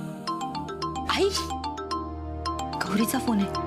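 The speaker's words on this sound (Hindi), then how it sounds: "गौरीचा फोन आहे." A melodic phone ringtone chimes in a repeating pattern of bright tones, with voices talking over it.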